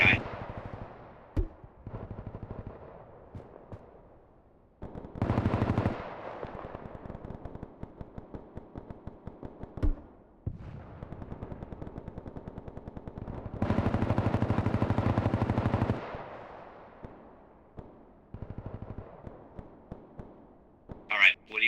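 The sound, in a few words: gunfire shooting at enemy in Bellum video game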